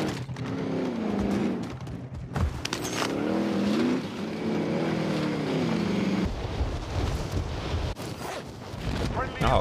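A vehicle drives in Call of Duty Warzone, its engine droning and rising and falling in pitch under wind noise. The engine stays loud and close throughout.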